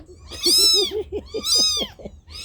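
Several cats meow loudly and close by in two long rising-falling calls, with shorter repeated mews between them, while someone handles them during feeding with goat milk.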